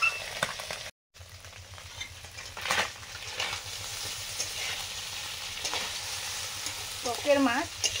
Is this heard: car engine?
no